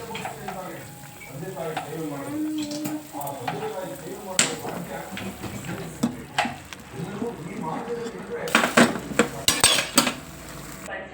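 Cooked lentils are tipped into a pot for bisi bele bath and stirred, with scraping, metal spoon clinks and a light sizzle, ending in a few sharper knocks against the pot, with a voice talking underneath.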